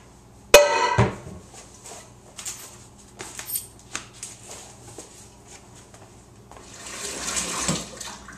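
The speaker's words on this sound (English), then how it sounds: "We filled the pot with water halfway full." Water pours into a cooking pot, beginning with a sharp metallic clank as the pot is set down, then a few knocks and a steady rushing flow that swells toward the end, with no voices.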